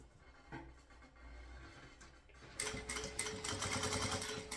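A sewing machine runs steadily at 3.5 stitch length, sewing a securing seam on a synthetic shoulder bag. A soft start gives way to a louder, fast rhythmic whir and clatter up close, with no voice.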